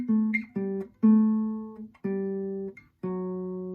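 Acoustic guitar playing a solo section from a song, six plucked, sustained notes in slow succession, close and clean with no voices.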